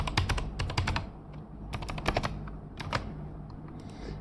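Rapid, fairly close clatter of keys as an email address and password are typed on a computer keyboard, in quick bursts separated by short pauses, with no voices.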